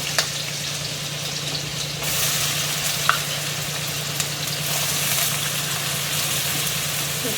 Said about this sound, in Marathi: मी 2 चमचे तूप टाकते आणि बटाटा कापलाय, बटाटा आता आपण परतून घेऊ